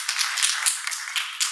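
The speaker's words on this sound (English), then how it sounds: "We can give her a round of applause, the whole team." Brief applause from an audience at a community presentation on co-designing main streets, a thin, bright patter of hand claps spread across the short moment, fairly quiet and without voices.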